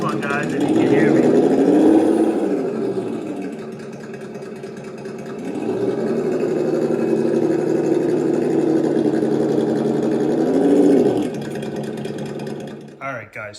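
An electronic engine sound module on an FMS Atlas 1/10 scale 4x4 off-road RC truck plays a raunchy idling rumble with rising and falling revs, loud and steady throughout.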